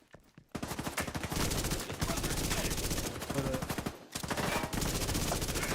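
Dense, sustained gunfire in The Division 2 video game: rapid automatic bursts and shots layered into a loud, near-constant fusillade, with a brief lull just after four seconds before the firing resumes.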